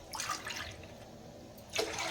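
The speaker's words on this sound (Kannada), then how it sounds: "ಈಗ 4 ಗ್ಲಾಸ್ ಅಷ್ಟು ನೀರು ಹಾಕ್ತೀನಿ" Water, about four glasses, is poured into a cooking pot for a North Karnataka-style jowar dish, heard as two brief, soft splashing gushes with a quiet pause between.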